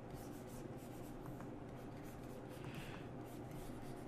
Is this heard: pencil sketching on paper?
yes